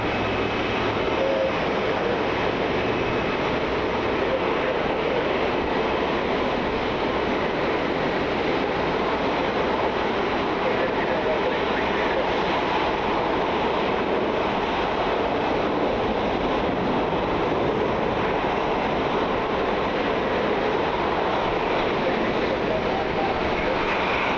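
A Boeing 767 jet airliner out of Louisville passing through rain at an airport in Cleveland: a steady, broad roar of jet noise blended with rain, continuous and loud throughout, with no distinct talk.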